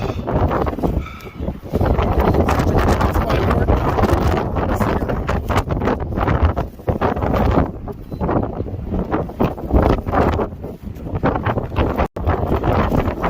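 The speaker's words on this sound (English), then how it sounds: "Windy day, everyone." Steady, loud wind at the Lands End Lookout on the coast buffeting the microphone, a continuous broadband roar with gusty swells and brief dips throughout.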